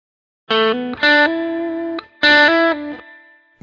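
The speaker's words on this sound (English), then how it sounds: "Now I'll disable it to hear the uncompressed recording." An uncompressed electric guitar recording with a distorted, chorus-effected tone plays a few sustained notes and chords, with clear jumps in loudness between phrases and a short silence between them, no voices present.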